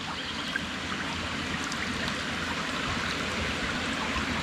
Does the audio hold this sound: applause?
no